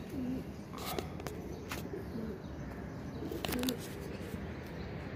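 Green-coloured pigeon cooing softly in a few low, rounded calls amid faint outdoor background noise, with occasional brief knocks.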